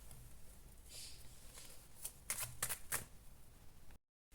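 A tarot card is pulled from the deck, heard as a few quiet, quick papery flicks and slides in close succession in an otherwise hushed room.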